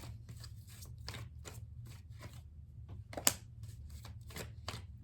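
Tarot cards shuffled by hand in a quiet room, a run of crisp riffling and slapping bursts in quick irregular rhythm with one sharper snap partway through.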